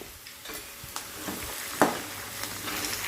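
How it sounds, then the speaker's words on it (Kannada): Peanuts and garlic fry in hot oil in a pan, giving a steady soft sizzle with scattered light ticks and scraping stirs, including one sharper clack near the middle, and no voices. "ಎಣ್ಣೆ ಕಾದಿದೆ ಸ್ವಲ್ಪ ಶೇಂಗಾ ಹಾಕ್ಕೊಳ್ತೀನಿ ಶೇಂಗದ ಜೊತೆನೆ ಬೆಳ್ಳುಳ್ಳಿ ಹಾಕ್ಕೊಳ್ತೀನಿ"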